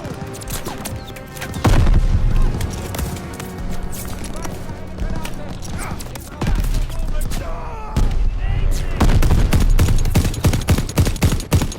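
Rapid bursts of gunfire from the World War II shooter Call of Duty: Vanguard, loud and continuous with heavy impacts and booms, while someone talks over the action.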